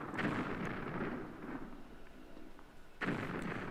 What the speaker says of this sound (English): get used to hearing these explosions